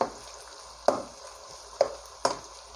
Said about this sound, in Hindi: थोड़ा सा फ्राई होने देंगे, 1-2 मिनट के लिए इसको फ्राई कर लेंगे ताकि हमारा प्याज और लहसुन जो है वो